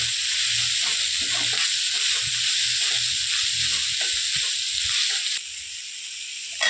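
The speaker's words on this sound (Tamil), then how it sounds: "இது நல்லா வதங்கி வரட்டும்." Onions sauté in a hot pan for a dhaba-style shredded chicken curry, giving a steady, close sizzle and hiss with faint stirring knocks beneath, then a slight drop in intensity near the end.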